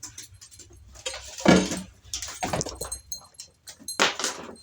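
Bella the dog tears around a house during a burst of zoomies, producing scattered thumps, skids and jingling tag clatter in uneven bursts, fairly close and loud, with no talking.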